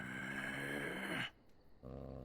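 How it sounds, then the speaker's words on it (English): A dog growls in the video game Dragon Age Origins, a deep, sustained, menacing rumble that breaks off briefly and then resumes, loud and close with no talk over it. "Vicious growl."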